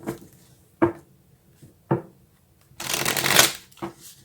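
Tarot cards riffled and tapped in a series of sharp bursts: several quick snaps, then a longer dense shuffle, then one more snap, close and clear with no talk.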